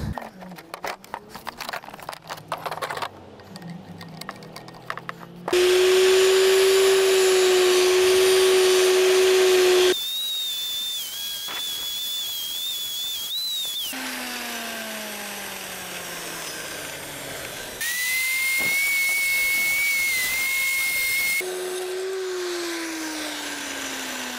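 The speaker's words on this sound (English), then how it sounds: "let's get the grinder going" A grinder for fishing bait runs in several loud bursts of steady motor whine, its pitch shifting between runs, with short quiet gaps and a few clicks and knocks in between.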